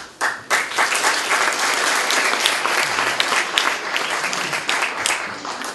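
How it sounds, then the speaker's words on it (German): Loud, dense audience applause fills a lecture hall as the speaker on Europe and the euro is introduced, a steady continuous roar of many hands clapping close by with no talk over it. "der Applaus ist schon so laut"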